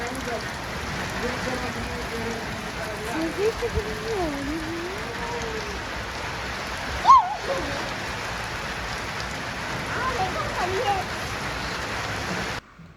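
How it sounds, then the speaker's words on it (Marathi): Steady heavy evening rain hisses throughout in a village, a dense continuous wash of water with a voice speaking faintly over it and a brief sharp sound near the middle. "सहा वाजलेत आणि हा धोधो पाऊस"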